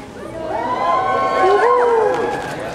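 An indoor crowd at an anime convention fashion show cheers and shouts, many voices rising and swelling together and then easing off, loud and filling the room.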